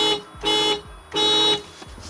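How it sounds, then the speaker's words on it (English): A stock horn on a Mitsubishi Evo X sounds three times, close and loud, as short blasts of a bright, nasal, buzzy tone with the middle blast held the longest. "So stock Mitsubishi horn versus aftermarket hella supertones."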